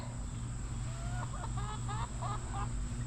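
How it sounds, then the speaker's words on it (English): Chickens clucking on a small farm with goats and rabbits, a quick run of short, rhythmic clucks and chatter heard at moderate distance over a steady background hum, faint and unhurried. "we just got chickens flying all over this place"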